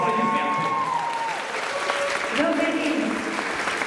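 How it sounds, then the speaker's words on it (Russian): Steady applause from a crowd at a university graduation ceremony honouring top graduates, continuous and full for several seconds, with a musical tone ringing over the clapping at the start. "Ваши аплодисменты."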